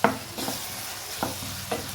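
Roti noodles stirred with Schezwan sauce in a pan, a steady low sizzle broken by several sharp scraping strokes of a spoon, close and alone with no talk.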